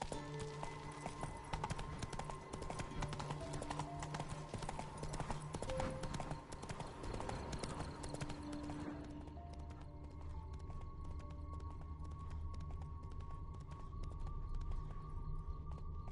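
Horse hooves clip-clopping at a steady gallop in The Witcher 3 video game, a continuous rhythmic beat that runs the whole time under a low droning music bed, with a brief whinny-like tone partway through.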